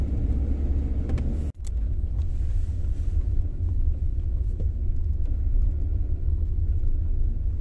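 A car drives along a road toward the Gomtu checkpost at the India-Bhutan border in the Dooars, its engine a steady low rumble with wind buffeting the microphone, interrupted by one brief dropout.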